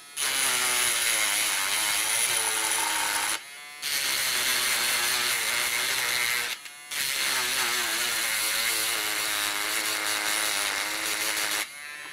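A nail file works the needle plate hole of a sewing machine, giving a steady, loud buzzing rasp in three long continuous bursts separated by brief pauses, with no talking.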